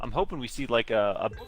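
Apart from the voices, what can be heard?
No everyday noises stand out.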